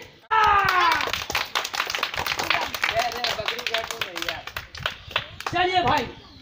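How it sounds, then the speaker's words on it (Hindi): Children clap hard in unison on a count of three, a loud burst of sharp claps that runs on under excited voices and chatter. "एक बार जब आदि बन जाएगा ना तो कस की ताली मारना"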